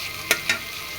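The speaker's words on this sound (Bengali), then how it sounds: "এদিকে এটা পটল ভাজা হয়ে প্রায় গেছে" Sliced pointed gourd fries in a pan, giving a faint steady sizzle, with two brief stir clinks close together.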